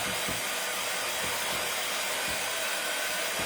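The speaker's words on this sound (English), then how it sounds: "It dries really fast, especially with the dryer." A hair dryer blows continuously at close range to dry paint on a craft lantern, a loud steady whooshing hiss with no breaks and no speech.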